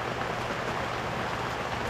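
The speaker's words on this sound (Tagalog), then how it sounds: "Malakas na ang ulan dito." Heavy rain pours steadily during a storm, a dense continuous hiss of drops on surfaces with no breaks and no voices.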